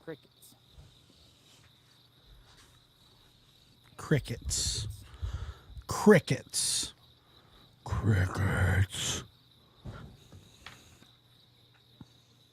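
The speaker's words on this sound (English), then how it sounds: "it kind of gives you a nighttime crickets" Steady high cricket chirping carries faintly through a quiet night, with a few louder rustling or voice-like bursts passing in the middle.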